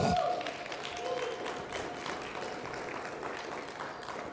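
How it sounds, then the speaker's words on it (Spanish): A congregation at a church thanksgiving service breaks into applause, a fairly quiet, steady patter of clapping hands lasting a few seconds with a brief voice at the start. "Un aplauso para ellos."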